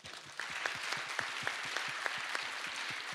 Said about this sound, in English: let's give an applause still